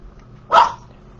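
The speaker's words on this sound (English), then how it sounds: "Quit barking." A single short, sharp dog bark, close by, in an otherwise quiet room.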